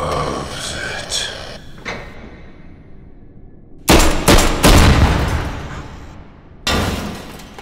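Gunfire in the VR shooter game H3VR, a loud close burst of several rapid shots followed by a single later shot, after a stretch of quieter handling noise.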